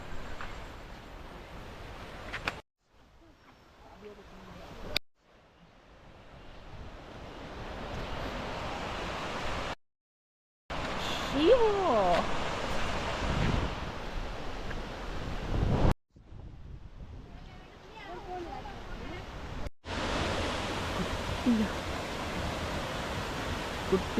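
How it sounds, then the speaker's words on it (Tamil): Water from Kutralam Falls in South India, in full monsoon flow, makes a steady broad rush. It is fairly loud and continuous but broken by several abrupt cuts to silence, with wind buffeting the microphone. "தண்ணி ஓடுது பாருங்க ஜம்முன்னு."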